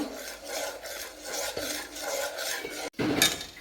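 A spoon scrapes and rubs against a pan while butter is stirred into ghee. The close, repeated scraping strokes are steady and rhythmic, with a brief sharp knock near the end.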